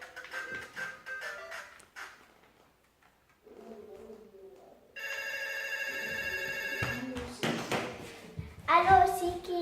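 A telephone rings with a sustained, evenly pulsing electronic bell tone for about two seconds in the middle, set between stretches of a child and an adult talking.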